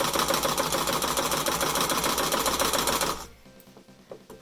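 A sewing machine stitches a fabric mask in a fast, loud, close mechanical chatter for about three seconds, then stops abruptly, leaving faint handling clicks and rustles.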